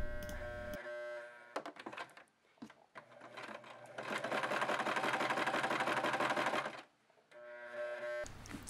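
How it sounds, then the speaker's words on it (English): A sewing machine stitches along the edge of stocking fabric, starting and stopping in short bursts before a long steady run of rapid whirring stitches, close and clear, with a constant background hum between runs. "Sew along the same line you sewed on before, lining up the edge of your sewing machine foot with the edge of the fabric."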